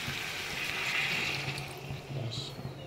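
Water pours into a pot of tender cooked meat, a soft continuous close gush and splash that tapers off over a few seconds, heard alone.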